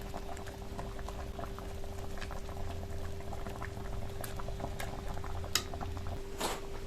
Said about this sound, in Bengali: ভেজে রাখা ডিমের অমলেটগুলো দিয়ে দেবো। মিনিট খানেক ফুটিয়ে নেব।